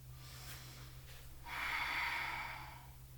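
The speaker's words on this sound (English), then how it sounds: "We're just breathing slowly." Slow, steady breathing while holding a plank during a heated sculpt workout, a faint inhale followed by a longer, louder exhale over a low background hum.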